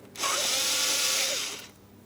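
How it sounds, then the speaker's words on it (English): An 8mm tool loosening a hose clamp at the thermostat housing of a 2003-2007 Cadillac CTS 3.6L V6 gives a single close, smooth whir lasting about a second and a half, with no other sound around it. "I'm using my 8mm to loosen this clamp."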